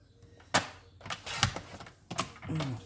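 Paper being trimmed to size for a handmade interactive card or album page, giving a few sharp cutting snaps and slicing strokes at close range, with short pauses between them and no talk.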